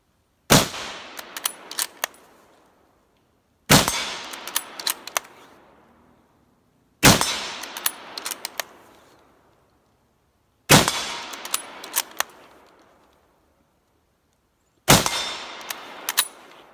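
Five loud, sharp rifle shots from a Winchester M1917 "American Enfield" fired outdoors at a target about 80 yards away, evenly spaced a few seconds apart, each cracking hard and ringing out in a long echoing tail.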